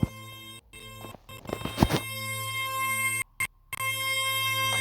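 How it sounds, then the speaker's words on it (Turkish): A phone alarm tone set to a song plays on its own, steady and fairly loud, with repeating tonal notes that cut out briefly in a few short gaps. "en üstteki benim alarm sesim"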